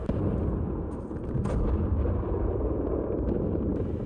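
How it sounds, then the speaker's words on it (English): Explosions inside the video game Powerwash Simulator rumble as a continuous deep roar with a few crackling bursts layered on top, loud and unbroken, with no talking. "More explosions."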